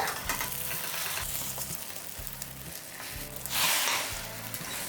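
Egg omelette frying in oil in a pan, with a steady close sizzle and a brief louder hiss near the end as it is flipped, heard alone without talk.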